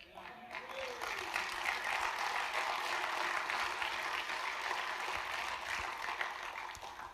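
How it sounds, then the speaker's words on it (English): Sustained audience applause during a church sermon on education and government, a steady broadband wash of clapping lasting the whole stretch with faint voices mixed in, fairly distant and even in level. "Now we clap"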